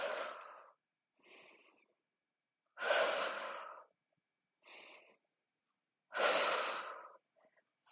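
Steady breaths during a Pilates strength session for classic cross-country ski prep: five separate airy breaths, alternating longer and shorter, soft and close with silent gaps between.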